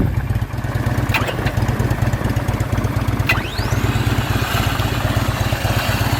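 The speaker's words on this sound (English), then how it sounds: "Up for sale is a 2009 Harley Davidson Tri Glide Ultra Classic factory built bike" A 2009 Harley Davidson Tri Glide Ultra Classic factory-built trike with a 110-inch motor runs at a steady idle, a low, even throbbing pulse close by, with a brief whistling tone rising over it partway through.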